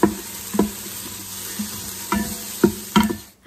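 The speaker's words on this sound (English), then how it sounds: "Listen to the sizzle." Oil sizzles in an Instant Pot Duo 7-in-1 electric pressure cooker on its sauté setting, a steady close crackle broken by several sharp scraping stirs from a utensil.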